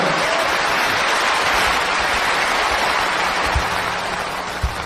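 Steady, dense applause from an audience at a singer's concert fills the room, a continuous hiss of many hands that stays loud throughout and eases slightly near the end.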